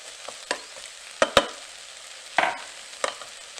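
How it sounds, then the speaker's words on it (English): Butternut squash pieces drop into a hot Instant Pot with aromatics, giving a soft steady sizzle broken by a few sharp thuds and clatters as the chunks land and are stirred. "I'm gonna add the rest of the squash in now."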